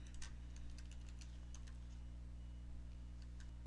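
Password being typed on a computer keyboard during a Windows software installation, a quick scatter of light key clicks over a steady low hum, close and fairly quiet, no speech.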